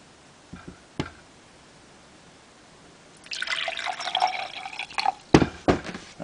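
Water from a faucet or filter trickles and fills a container after a few isolated drips, the pour growing louder and ending in splashy bursts, with no talking.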